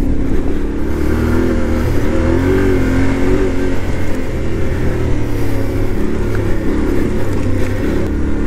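A Yamaha Tenere 700 motorcycle ridden along off-road trails, its engine droning loud and close with steady rumbling and shifting revs, mixed with wind noise throughout.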